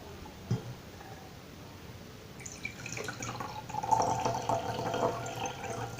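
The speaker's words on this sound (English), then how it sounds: "Now we'll put the cold water in the second glass" Cold water pours into a glass holding ice with a trickling, rising splash after a brief clink, close and moderately quiet.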